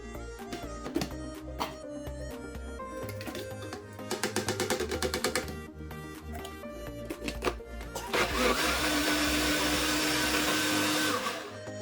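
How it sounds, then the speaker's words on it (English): A kitchen blender purees tomatoes, Scotch bonnet pepper and onions for Nigerian yam porridge, its motor whirring in bursts that rise and fall, then building to a steady, louder grinding spin near the end. "So now I'm putting my tomatoes inside. So I blend them together."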